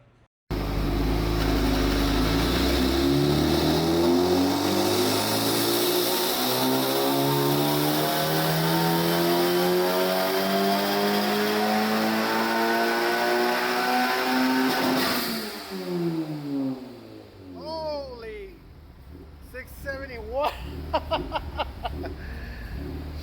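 A 2023 Honda Civic Type R FL5 fitted with an MDR X-700 turbo, running E85 at 35 psi, pulls hard on a dyno. A loud engine climbs steadily in pitch for about fifteen seconds, then drops off into whooshing turbo and blow-off sounds.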